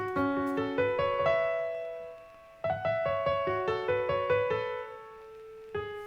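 Slow piano melody with long sustained notes, played softly and alone, pausing briefly midway before continuing.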